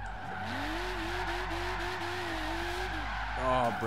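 Tyres of a Toyota GT86 junkyard drift build in Forza Horizon 3 screech in a sustained wavering squeal as the car skids with hard-locked brakes over a steady engine drone, ending with a brief burst of engine revving.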